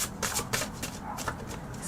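A deck of large tarot cards is shuffled in quick, papery riffling bursts, close and fairly soft, over about two seconds.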